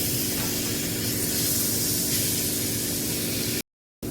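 Masala with tomatoes frying in oil for misal pav, giving a steady close hiss and sizzle throughout, broken by a brief silent gap near the end.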